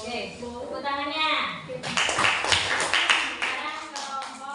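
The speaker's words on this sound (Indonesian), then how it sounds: "Oke, tepuk tangannya." A classroom of children claps hands in a burst of quick, uneven, close applause, following a stretch where an adult voice speaks.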